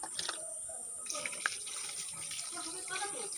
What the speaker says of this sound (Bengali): এবার এই দুটিতে জল দিয়ে দিলাম